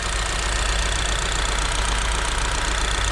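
A 1.6-litre turbocharged GDI petrol engine in an all-wheel-drive Kia Sportage runs at a steady idle, giving a continuous low rumble with a broad mechanical hiss. Nobody speaks over it.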